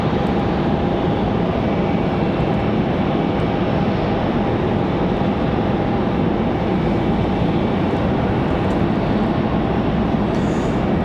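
A Wheels Up flight arriving at Raleigh-Durham International Airport from Marco Island makes a loud, steady jet roar that holds broad and constant throughout, with no voices over it.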